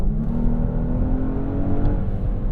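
A Genesis GV80 SUV engine revs under throttle with active sound design turned up, a steady, loud, low droning growl heard from inside the cabin with no talking.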